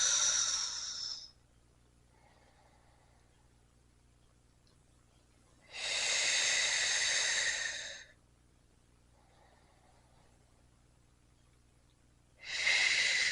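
Three strong exhalations during a French-language Pilates hoop session, each a long breathy whoosh about two seconds long, spaced several seconds apart against quiet room tone.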